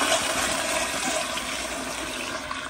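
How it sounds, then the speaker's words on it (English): A weathered 2009 elongated Gilpin Proflo pressure-assist toilet flushes with a loud, forceful rushing whoosh that runs unbroken and close throughout, with no talking. "but here's another flush."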